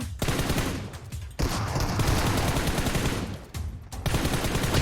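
Shotgun blasts and rapid gunfire from a PUBG Mobile match, a loud near-continuous barrage broken by two short gaps.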